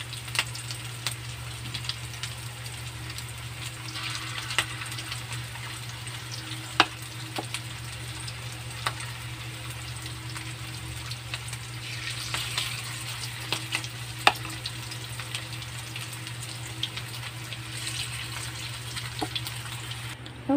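Meatballs (bola-bola) frying in a pan, a steady low sizzle with scattered crackles and pops throughout, moderately close and fairly quiet, no voices.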